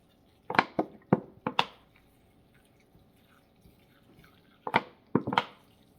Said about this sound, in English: So just putting in water in all of them to get ready for the seeds.